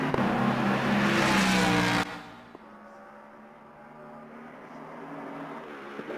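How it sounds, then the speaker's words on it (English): Race car engine in Assetto Corsa Competizione roars loudly for two seconds, then cuts to a much quieter low drone with faint clicks. "it kind of sounds like a NASCAR car or something"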